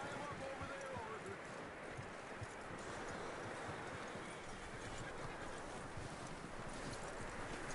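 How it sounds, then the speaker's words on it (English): Horse hooves clip-clopping in Red Dead Redemption 2, a steady quiet patter of hoofbeats under a faint continuous background wash, with no voices over it. "That looks like a decent horse."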